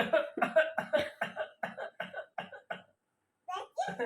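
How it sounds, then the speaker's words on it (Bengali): A child coughs repeatedly in a fast run of bursts, close and loud, then falls quiet for a moment before coughing twice more, with a sick child being shown to a doctor in a comic skit. "কাশি আসছে"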